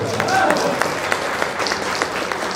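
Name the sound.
applause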